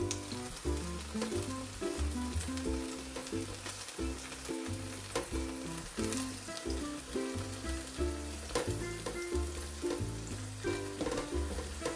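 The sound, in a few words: eggplant frying in oil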